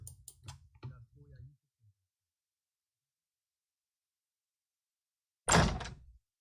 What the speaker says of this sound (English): heard my door open